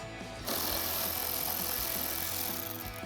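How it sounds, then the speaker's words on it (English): A 7 mm socket wrench ratchets steadily to back out the lower wheel well screw on a 2014–2015 GMC Sierra 1500 during a grille replacement, a continuous close clicking with no speech. "I'm going to start with a 7 millimeter socket to remove the lower screw"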